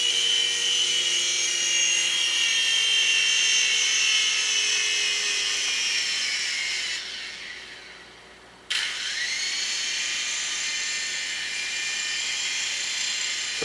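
A Propel Gyropter Mini 3-channel RC helicopter whines with a high, steady rotor buzz that dips and falls away, then abruptly returns at full pitch as it comes in to land.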